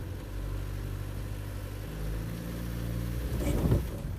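A car engine runs steadily while the car sits stuck in snow, a low continuous drone that swells a little toward the end, with no talk over it.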